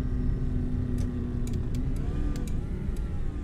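A VW Polo GTI car mod in Euro Truck Simulator 2: a steady engine drone with a thin, whistly whine on top and a few faint ticks, no voices over it.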